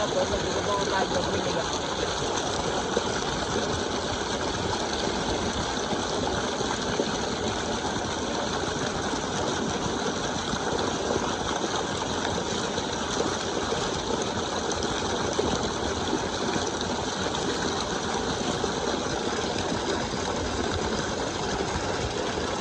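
A steady pump motor hum runs continuously with a constant rush of flowing water in a village, loud and unchanging throughout.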